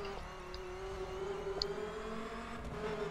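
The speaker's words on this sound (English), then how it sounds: "listen to your engine hum and whine" In the video game The Crew, a steady car engine hum with a faint whine holds at an even, fairly quiet level through tunnels near Jackson Hole, a few small ticks and clicks over the drone.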